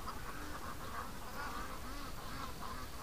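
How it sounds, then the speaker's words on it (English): A flock of Muscovy and Pekin ducks quack and murmur continuously outdoors, a dense, steady chorus at moderate distance with no talking. "There's a bunch of Muscovies over there."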